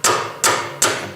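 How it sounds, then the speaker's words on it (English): A plastic hammer taps an engine valve on a Fairbanks Morse 3HP ZC engine under repair, three loud, evenly spaced knocks close up, each ringing briefly. "and then just take a plastic hammer"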